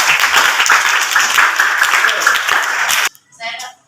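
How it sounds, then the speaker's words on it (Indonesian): Audience applause in an Indonesian classroom teaching session: loud, dense clapping from a group that stops abruptly, followed by a brief moment of speech. "terima kasih, kita kasih aplaus."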